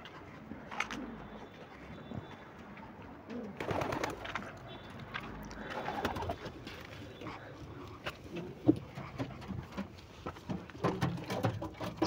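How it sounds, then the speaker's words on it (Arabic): Pigeons with clipped feathers coo repeatedly in their loft, soft throaty calls scattered over the scene, mixed with rustling, wing movement and faint background voices. "نطلع الحمام اللي مقصوص كله بره"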